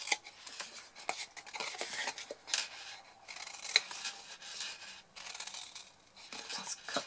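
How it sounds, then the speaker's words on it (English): Scissors cutting paper corner squares into wedges for a folded box, a series of close crisp snips and rustling paper handling. "Then we're going to cut the four corner squares into wedges."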